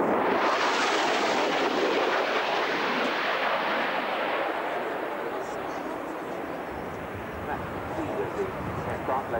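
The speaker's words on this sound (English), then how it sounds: "Aircraft low down" Aircraft flying low over the RAF Coningsby airshow in 1993, a broad roaring rush that swells loud and then slowly fades as it passes, with no talk.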